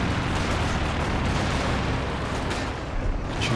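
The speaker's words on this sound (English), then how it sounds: "So it's the officer coordinated barrage again, I think." An officer-coordinated artillery barrage lands in a Company of Heroes 2 match, a loud, sustained rumble of shell impacts and gunfire that keeps going without a break, with no talking.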